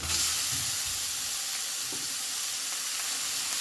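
Grated carrot and ginger stir-fry in a pan over a medium gas flame, a loud, steady sizzle with a constant hiss and faint scraping stirs beneath it.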